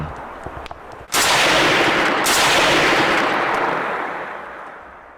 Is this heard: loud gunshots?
yes